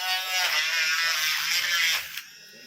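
A mini grinding machine run at its third speed drills small holes in a 3D-printed art model, giving a steady high-pitched whine for about two seconds before it cuts off, then near silence.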